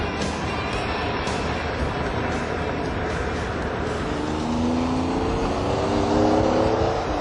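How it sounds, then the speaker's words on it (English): A Lamborghini Diablo sports car engine roars loudly and steadily, then its pitch climbs toward the end as it revs and accelerates, with no voices over it. "It's called the Diablo, and it's one of the fastest cars in the world."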